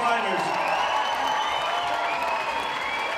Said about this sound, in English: How about a round of applause for both of these young fighters?